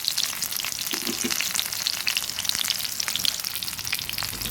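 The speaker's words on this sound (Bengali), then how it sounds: "এভাবে আমি সবগুলো ভেজে নেব" Banana flower (mocha) pakoras deep-frying in hot oil make a dense, continuous crackling sizzle with fine popping bubbles, loud and close, with no voices.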